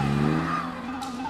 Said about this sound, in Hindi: चल गाड़ी निकाल।